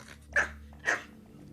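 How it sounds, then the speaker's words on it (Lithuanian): A dog gives two sharp, close barks about half a second apart, with a rough, growly edge and a quiet low hum beneath, in a short burst with no talk. "Lojimas man tikrai nepatinka."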